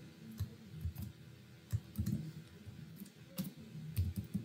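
Irregular clicks of keys being struck on a computer keyboard while Python code is typed, a few taps at a time with short pauses, close and fairly quiet over low room hum.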